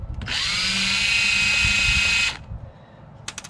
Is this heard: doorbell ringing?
no